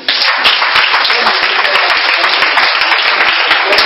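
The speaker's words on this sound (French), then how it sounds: "Est-ce qu'on peut acclamer le Seigneur?" Church congregation applauding, a loud dense wash of clapping that keeps going without pause for the whole stretch.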